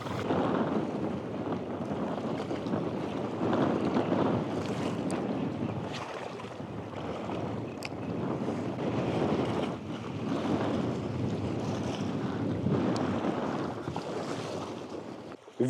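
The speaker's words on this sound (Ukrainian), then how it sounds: "Вітер сьогодні просто шалений, 13 метрів в секунду." Strong, gusty wind of 13 metres per second roaring across an open mic near water while fishing, a loud continuous rush that swells and eases, with faint sloshing beneath.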